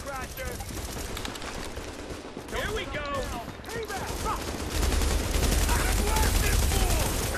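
Dense, continuous bursts of rapid gunfire with booming explosions in The Division, getting louder and heavier toward the end, with voices shouting underneath.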